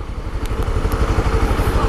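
A Honda CB 300 motorcycle engine runs close by, a steady, throbbing, low pulsing beat that stays loud and even throughout, with no speech over it.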